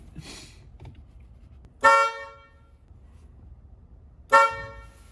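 Car horn of a Chevrolet Vega sounding twice, two loud short honks a couple of seconds apart over a quiet background, each cutting off sharply.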